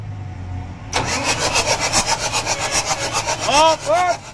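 A Howo A7 380 truck engine with a hard-starting fault cranks loudly and close up in a rapid, rhythmic churning run of strokes, with brief shouts from people nearby.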